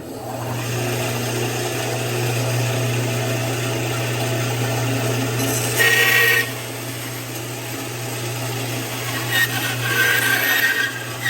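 A bandsaw fitted with an overhead fence trims a piece of wood, a steady motor hum throughout with brief louder bursts as the blade cuts.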